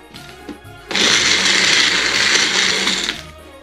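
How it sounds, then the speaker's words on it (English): A kitchen blender whirs steadily at high speed for about two seconds, blending a pumpkin spice protein shake with cinnamon, starting abruptly and cutting off cleanly. "time to go on the blender"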